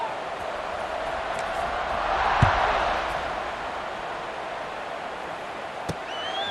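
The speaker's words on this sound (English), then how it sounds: "this crowd is feeling themselves after that last drive." A stadium crowd roars steadily through a College Football 26 matchup between East Carolina and Marshall, with broad sustained cheering that swells midway, a couple of sharp thumps, and commentary-like speech faintly underneath.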